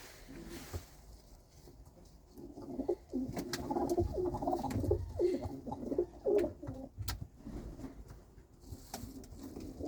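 Soft, repeated cooing of pigeons, several birds overlapping in a steady low murmur, close by, with occasional wing flutters and faint chirps.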